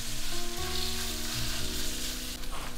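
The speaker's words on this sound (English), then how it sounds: "Now carefully pour about half of our batter into the pan." Zucchini pancake batter fries in a hot pan with a loud, dense, continuous sizzle heard up close and alone.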